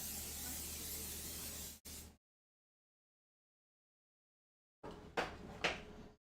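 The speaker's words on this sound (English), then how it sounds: "Pan is sprayed." Cooking spray hisses out of a can onto a pie pan in one steady close spray lasting under two seconds, followed by silence and then a few clunks as the can and pan are handled.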